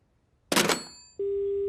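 A cartoon telephone line goes dead: a short burst of clattering noise, then a steady, loud continuous phone tone held alone.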